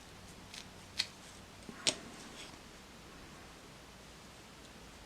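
Scissors snip through the bristles of a paintbrush prepared for ceramic painting, two short crisp cuts close by, the second a little louder, over a faint steady hiss with no talk.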